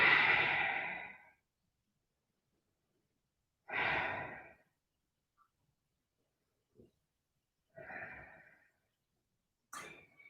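Slow, deliberate breaths held in a yoga pose: a long loud exhale, then three more spaced breaths at a calm rhythm, close to the microphone, separated by near silence.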